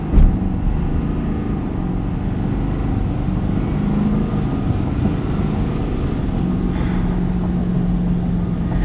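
A 2023 Ford F-250 King Ranch Super Duty crew cab with a 6.7L V8 diesel and 10-speed transmission accelerating in 4-high, heard from inside as a steady low engine drone under road and wind noise.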